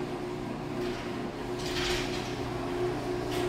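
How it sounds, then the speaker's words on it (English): A universal garage door opener runs a garage door through opening and closing, giving a steady mechanical drone with low motor hum and rattling that holds throughout, rising slightly midway, with no talk. "You can see the garage door opening and closing."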